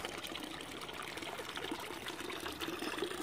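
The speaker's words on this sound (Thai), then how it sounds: "น้ำตก" A forest waterfall on a mountain trail gives off a steady, soft rush of falling and trickling water, continuous and fairly faint, with no voices.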